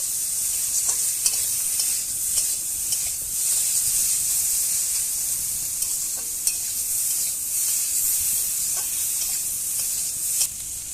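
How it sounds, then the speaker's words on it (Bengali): Mixed vegetables fry with salt and turmeric in a pan, a bright hissing sizzle held steady throughout, with light intermittent taps and scrapes of stirring close by. "নুন হলুদ দিয়ে ভালো করে আমি সবজিগুলো ভেজে নেবো"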